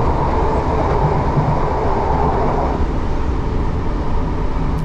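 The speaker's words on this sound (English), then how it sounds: "I'm gonna get the train now." A passenger train rumbles loudly and continuously from inside a carriage, with a heavy low roar and faint rail clatter throughout.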